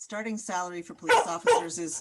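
A dog barks and yips repeatedly in a home setting during an online meeting, its sharp barks overlapping a man's speech at similar loudness.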